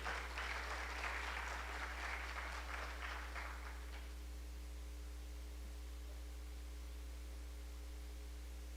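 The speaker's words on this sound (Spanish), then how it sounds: "Un fuerte aplauso para nuestro director." An audience at a panel during the International Book Fair applauds the director for about four seconds before the clapping stops, leaving a steady electrical hum and faint hiss.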